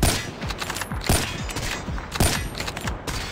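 SPR208 sniper rifle fire in Call of Duty Mobile: four loud, sharp shots spaced roughly a second apart, each followed by a short mechanical bolt action, with no talk.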